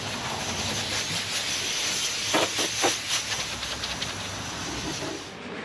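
Loud, continuous hiss of compressed air blasting off a truck bed liner, with a few sharper bursts in the middle before it tapers off near the end.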